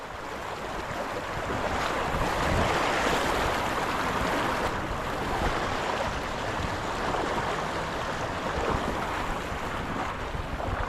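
Water splashing and churning as someone wades into the South Holston River, a steady broad wash of flowing water and wind buffeting the microphone throughout, close and loud without a break.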